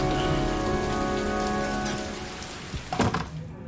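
Steady rain falls in the video game Heavy Rain, a dense continuous patter filling the scene, with a few louder nearby splashes and thumps near the end.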